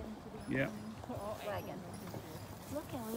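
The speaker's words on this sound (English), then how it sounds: "Look at the horses." Horse hooves clip-clop steadily in the background, a wagon nearby, while several people talk over them, a voice among them, outdoors at Kings Landing, New Brunswick.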